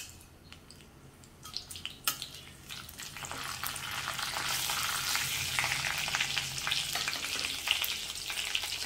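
Whole spices drop into hot ghee for a vegetable pulao and sizzle. The crackle starts faint and clicky, then swells into a loud, steady, close frying hiss with occasional pops, and no one speaks.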